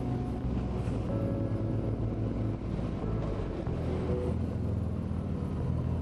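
A 2024 Harley-Davidson Freewheeler trike's engine rumbles steadily during a test ride, a low, continuous drone with wind noise, holding a constant pitch as it powers out of a corner, with no talking.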